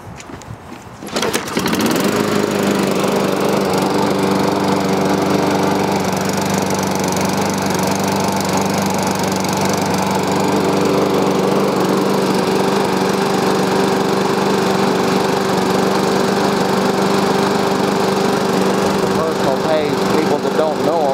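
Toro Personal Pace lawn mower under repair, its small engine catching after a brief pull and then running steadily at a loud, even idle close by for the rest of the stretch, with no change in pitch.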